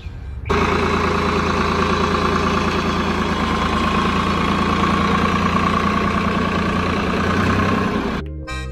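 A tractor engine runs steadily on a farm in Gujarat, a loud continuous idling drone for about eight seconds that cuts off abruptly near the end.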